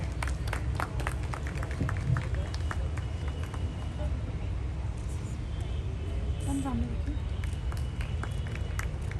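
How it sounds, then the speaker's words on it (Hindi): A crowd claps continuously in dense, steady applause, with voices mixed in throughout. "रिदा के लिए तालियां भाई"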